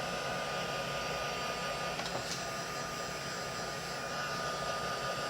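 A heat gun used for paper crafting blows hot air in a loud, steady, unbroken whoosh throughout, with a faint click or two partway through and no talking.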